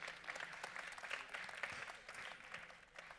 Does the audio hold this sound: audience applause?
yes